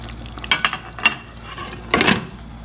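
Masala of coriander and cumin powder being stirred in a pan on a low flame for Hyderabadi Bagara Baingan, with a few soft scraping stirs and a gentle sizzle, close and quiet.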